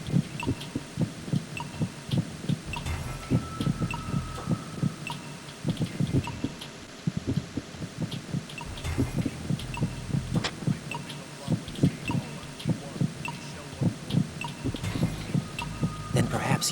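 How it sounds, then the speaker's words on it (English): A heartbeat sound effect in Metal Gear Solid pulses in a steady, rhythmic throb, with faint game ambience and some voice mixed in. "The heartbeat sound."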